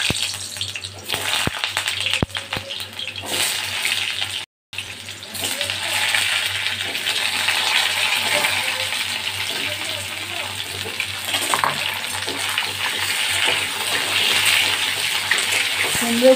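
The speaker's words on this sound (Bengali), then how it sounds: "এবার আমি কুমড়োগুলো ভেজে নেব।" Pumpkin pieces fry in hot oil in a kadai, giving a steady, fairly loud crackling sizzle that runs through nearly the whole stretch, broken only by a brief gap, with occasional light clinks.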